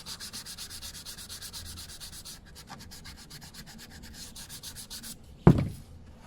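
Old woodworm-damaged wood sanded by hand in steady rhythmic strokes, a close raspy rub repeating about twice a second, then a sudden louder knock or thump at the end.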